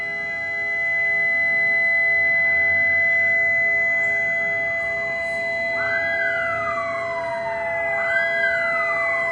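Sirens wail across a city square in Erzincan during the Atatürk memorial silence at 9:05, sustained howling tones with a rising-and-falling sweep repeating in the second half, loud and carrying with no talk.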